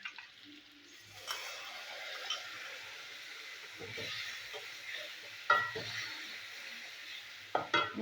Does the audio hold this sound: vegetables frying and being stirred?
yes